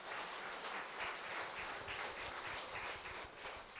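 Church congregation at an elders' worship service applauds steadily, a soft, even wash of many hands clapping at moderate distance with no talking.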